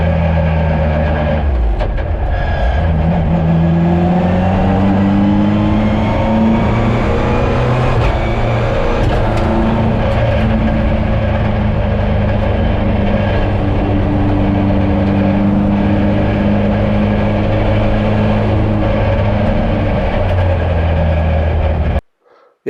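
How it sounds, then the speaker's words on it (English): A rally car out on a night test drive, its engine droning loudly and steadily from the cabin with shifting tonal pitch as it pulls through gears, continuous with no talk. "I've just taken her out for a quick test drive with Goretti as the in navigator seat becaus"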